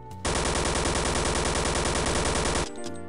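An AK rifle in the Counter-Strike video game fires one continuous, rapid automatic burst, loud and close, lasting over two seconds and then cutting off abruptly.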